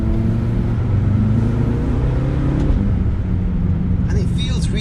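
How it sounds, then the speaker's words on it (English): A tuned BMW F10 M5 with a V8 engine drones with steady, loud cabin rumble as it accelerates. A person talks throughout over the continuous engine noise. "you can tell like that V8 is relentless"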